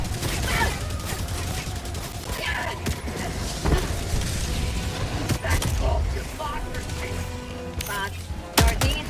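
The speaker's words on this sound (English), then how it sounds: "turret's helping me now." A sentry turret in the video game Helldivers 2 fires rapid bursts of gunfire mixed with booms and mechanical clanks, loud and continuous under a player talking.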